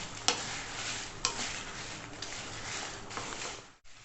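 Red chillies dry roast in a pan, giving a soft continuous rustle and light sizzle as they are stirred, with a couple of sharper scrapes of the spoon against the pan.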